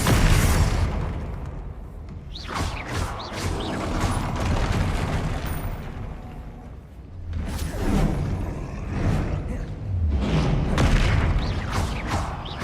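Confringo blasting spells go off in the Hogwarts Legacy video game, producing repeated heavy booms with whooshing bursts in several waves across the stretch.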